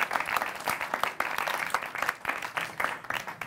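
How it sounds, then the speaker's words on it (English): Lively audience applause for a comedian at a live comedy panel show: crisp, dense hand claps pulsing loudly and continuously, with a light crowd murmur underneath and no speech. "Round of applause for Charles"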